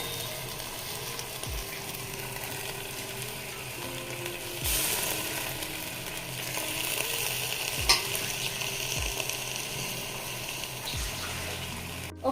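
Cleaned gongura leaves go into a pot with about a glass of water and cook on the stove. A steady hiss of bubbling runs throughout, broken by several dull thuds and scrapes of stirring, with one brief sharp clatter.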